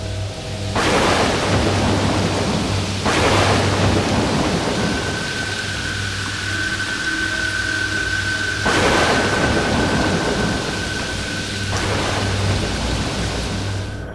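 Heavy rain pours steadily in a cartoon storm while several loud thunderclaps break through at intervals, with a faint sustained tone underneath.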